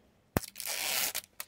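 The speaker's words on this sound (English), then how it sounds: "Let me do this tear strip real quick." Cardboard gift box tear strip ripped open by hand: a sharp snap, then a sustained close tearing rasp of about half a second, followed by a couple of short rips.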